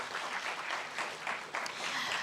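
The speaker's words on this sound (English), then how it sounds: "give a round of applause to all the finalists for today" Audience applause for startup competition finalists: a brief, fairly quiet burst of steady clapping from a crowd, lasting about two seconds.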